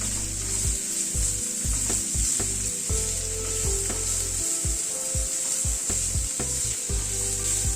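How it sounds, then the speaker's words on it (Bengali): Onion, beans and capsicum fry together in a pan for sago upma, making a dense, constant sizzle broken by rhythmic scraping strokes of a spatula stirring the vegetables, close and fairly loud, with no voices. "পেঁয়াজটা দিয়ে দিচ্ছি, বিনস ক্যাপসিকামটাও একই সাথে দিয়ে দিলাম। সবকিছুকে দিয়ে একটুখানি ভেজে নিচ্ছি।"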